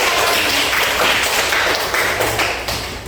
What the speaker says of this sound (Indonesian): Bagus sekali pertanyaannya, kita tepuk tangan dulu